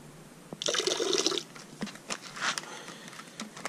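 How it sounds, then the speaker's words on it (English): Ghost car wash soap is poured into a gallon of water in a bucket, a close splashing gush lasting under a second, followed by scattered sloshes, drips and bottle handling. "I'm about to add some Ghost to this gallon of water"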